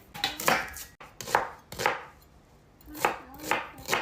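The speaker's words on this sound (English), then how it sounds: "I'm just going to chop down my onion." A knife chops an onion on a cutting board in steady, crisp strokes, several cuts in quick succession with a short pause in the middle, close by.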